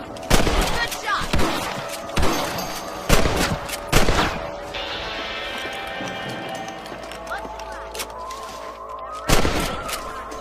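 Rifle gunshots ring out in Red Dead Redemption 2: several sharp, loud cracks at irregular intervals over a scene with horse movement and voices.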